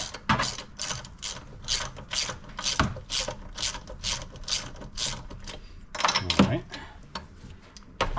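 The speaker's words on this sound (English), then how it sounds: "This ratchet's starting to fail on me, I think." A ratchet wrench clicks rapidly and continuously while spark plugs are being removed from a gas 2004 EZGO TXT golf cart, close and loud, with brief metallic clanks mixed in and a short pause before the ratcheting resumes.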